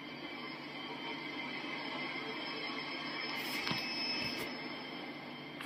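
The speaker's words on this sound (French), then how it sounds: "Vous êtes à bord d'une locomotive" AC4400CW freight locomotive on the Sand Patch Grade line in Train Sim World 2, a steady low engine drone and rail rumble heard from the cab, with faint metallic squeals near the end.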